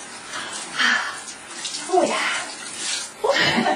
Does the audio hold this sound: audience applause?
no